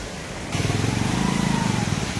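Water rushes steadily through two open gates of the Gundlakamma reservoir, a broad, even roar that swells louder after the first half second and holds close and continuous with no talk.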